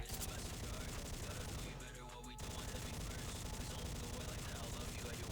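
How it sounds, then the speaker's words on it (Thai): Test-firing the Mulan gun skin in the XSHOT shooting game makes dense, continuous rapid gunfire. It stops briefly for a short gap, then resumes at a steady, loud level, with a voice talking over it. "ไหนผมลองเทสยิงดิ ขอลองแป๊บ"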